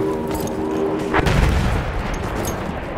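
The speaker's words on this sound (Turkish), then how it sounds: "Bomba atıyorum." A thrown bomb explodes in the Battlefield 1 first-person shooter, one heavy boom about a third of the way in that rolls out into rumbling battlefield noise, with faint distant firing and no talk.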